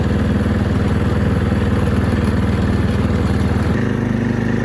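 A Snapper riding mower engine runs loud and close while the machine drives in third gear, a steady rumbling chug with a rapid mechanical beat that shifts slightly in tone near the end, with no talking.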